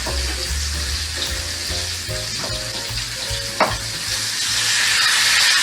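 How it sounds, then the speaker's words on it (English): Loud, steady sizzling of oxtail frying in a pan, with stirring and scraping clatter and a brief sharp knock midway. "Oh yeah, hear that sizzling goodness?"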